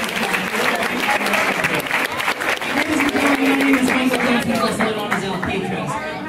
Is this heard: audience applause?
yes